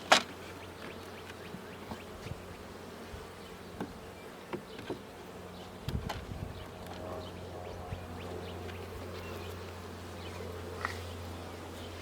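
Honey bees buzz steadily in an opened hive super during a July check, a dense close hum with individual bees droning past the microphone and occasional light knocks of handling.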